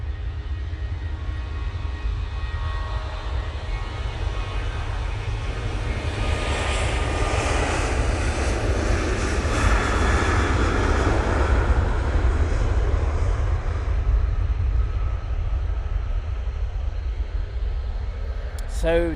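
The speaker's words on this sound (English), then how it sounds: "737 going off to Rome now" Boeing 737 jet taking off toward Rome at Manchester Airport, a loud sustained engine roar swelling to a peak mid-way and easing slightly toward the end, with a rushing broadband rumble throughout.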